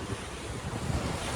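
Ocean waves at Alfa Momong beach wash steadily with broad, even surf noise and some wind rumble, with no voices.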